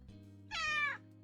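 A pet cat gives one clear, drawn-out meow, close and fairly loud, over a steady background of game music.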